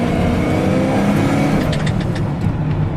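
A 1996 Ford F-250 4x4 extended-cab pickup with a big 460 V8 accelerating hard, a loud, close, steady engine roar that builds throughout with no talking.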